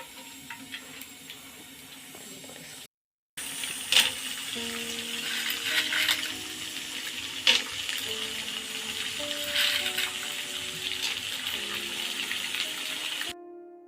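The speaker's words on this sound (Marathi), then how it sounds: "तेल गरम झालेलं आहे आणि आता मी डिंक तळून घेत आहे" Edible gum (dink) frying in hot oil in a kadhai, with a continuous hiss and bubbling, brief crackles and pops, and a short silent gap early on.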